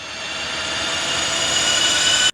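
An airplane flying past, a steady broadband jet roar that builds gradually in loudness and then cuts off abruptly.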